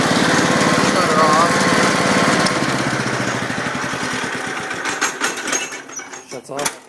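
An old Cub Cadet lawn tractor engine chugs steadily and loud up close, then is shut off and sputters, slowing into a few uneven dying thumps before stopping.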